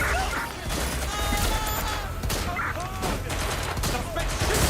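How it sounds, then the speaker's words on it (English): Rapid gunfire bursts in Watch Dogs Legion, loud and close, with repeated shots and impacts over shouting voices and game noise. "Suspect shooting! Shots fired! Shots fired!"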